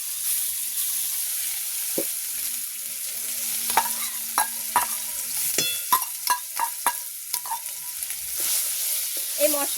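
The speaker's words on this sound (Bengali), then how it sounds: "একটুখানি একটু ভাজ ভেজে নিই হালকা নাড়াচাড়া করে নিই" A paste of pre-fried spices sizzles in a pan for an omelette while a utensil stirs and scrapes it, giving a soft, steady frying hiss broken by sharp, rhythmic clicks that grow busier toward the end.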